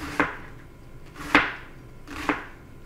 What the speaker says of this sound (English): then I'm going to slice this in half, so I don't have real long stringy pieces of cabbage